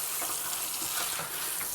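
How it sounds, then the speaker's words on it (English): Running water from a tap pours steadily at close range, a continuous hissing splash with no talk over it. "I'll be surprised if you can hear me over the running water."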